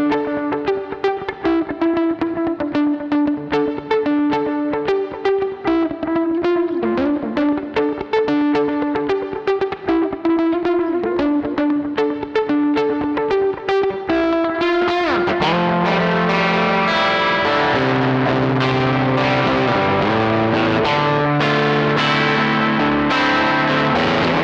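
Electric guitar through a Laney L5 Studio amp's dirty channel, with hall reverb and an Adriatic delay set to dotted-eighth timing in the effects loop. It plays loud and continuous, with dense sustained notes, a shift to a fuller, lower passage partway through, and no talking.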